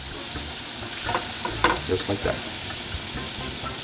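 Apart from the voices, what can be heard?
butter melting and sizzling with garlic in a pan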